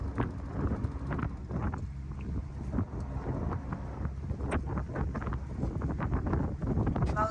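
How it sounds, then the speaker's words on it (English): Strong wind buffets the microphone aboard a sailboat crossing from Grand Cayman to Panama, a constant rough roar with gusty swells and knocks of the boat, close and loud with no talk. "It's quite windy."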